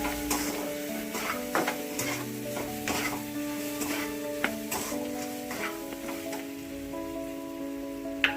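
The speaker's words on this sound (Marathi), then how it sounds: "बिर्याणी मसाला आणि छान असं हलवून घ्यायचं आहे हे सगळं." Masala rice with biryani masala, potato and soybean being stirred in a pan, steady sizzling with soft scraping strokes and occasional spoon knocks, close and continuous with no talk.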